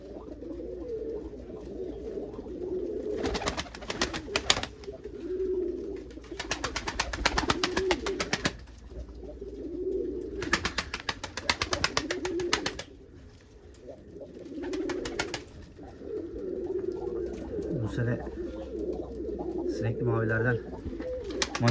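Tumbler pigeons in a loft give repeated soft, low coos in bursts, with wing flutters and rustling between them and a voice talking intermittently nearby.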